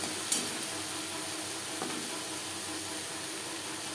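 Drumstick leaves cook on a low-medium flame, a faint soft sizzle with an occasional light utensil tap or stir, quiet and close.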